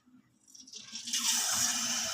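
Palm fritters frying in hot oil, a soft sizzle swelling into a steady, bright hiss as the batter goes in, fairly quiet and without talk.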